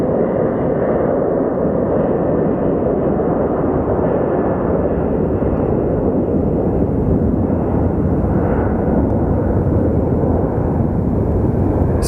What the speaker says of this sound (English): right over here we have our Star Alliance departing for Denver